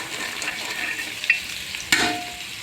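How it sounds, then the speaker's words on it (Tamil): Carrot, beans and cabbage fry together in a pan with a soft, steady sizzle, broken by two sharp scrapes of a spoon stirring the vegetables, with no talk. "எல்லாத்தையும் ஒன்றா போட்டு கிளறி விட்டுக்கலாம்"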